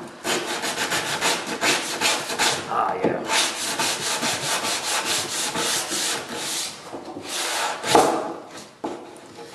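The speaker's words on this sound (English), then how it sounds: "So I'm going to finish it off with my sanding block here." Steady back-and-forth rasp of a sanding block rubbing over a wooden window sash, continuous strokes close by, with a brief pause and a short spoken exclamation.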